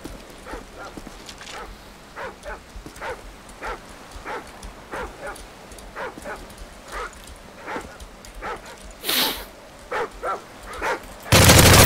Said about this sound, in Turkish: Attack dogs outfitted with explosives are in your vicinity.